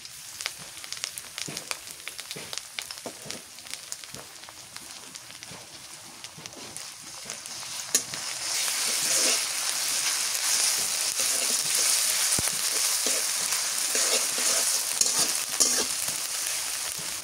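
Garlic paste, onion paste and green chilies stir-fried in a pan for a fish curry, starting with scattered clicks and scrapes, then swelling into a dense, steady hiss of frying from about halfway on.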